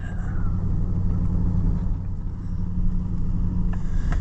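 An Oliver 1650 tractor drives across a bumpy field, its engine producing a steady, loud low rumble that swells slightly near the end, with a couple of faint rattles. No voices are heard.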